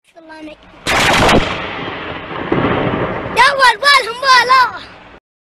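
A loud, sharp thunderclap bursts during a thunderstorm and rolls into a fading rumble, followed by a voice speaking near the end.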